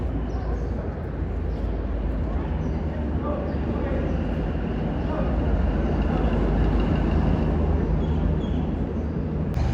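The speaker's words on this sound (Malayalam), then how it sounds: "ലോക്കൽ ട്രെയിൻ വരുന്നുണ്ട് കേട്ടോ" Constant low rumble of a local train rolling into a station platform in Kashmir, steady and fairly loud throughout with no distinct horn.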